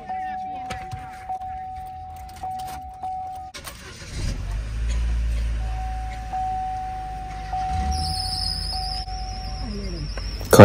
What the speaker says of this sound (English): Car starts right up.